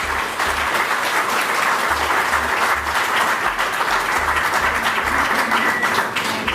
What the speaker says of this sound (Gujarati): એ બદલ આપણે સૌએ એને જોરદાર તાળીઓના ગળગળાટથી વધારવા જોઈએ.